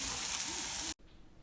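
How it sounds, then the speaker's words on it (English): Green beans frying in sofrito for a big paella give a bright, steady sizzle with faint scraping of stirring, close and continuous, then cut off abruptly into near silence. "just stir them in with this sofrito and get them frying up a little bit"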